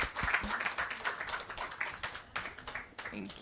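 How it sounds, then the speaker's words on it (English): Audience applause at a women's wealth and real estate conference, fairly close clapping with uneven sharp hits that swells and thins across the stretch, with a voice briefly heard under it. "round of applause. Yeah, a round of applause."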